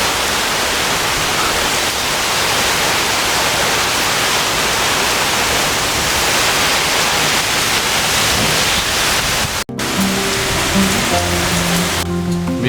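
Steady, loud rain falls on the rooftop of a village house, a dense unbroken hiss throughout, with a brief dropout near the end before the downpour resumes alongside some low tonal sounds.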